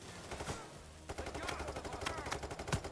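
Rapid gunfire bursts in the game Payday 3, dense repeated shots and impacts filling most of the moment after a brief quieter lead-in, loud and close, with no talk over it.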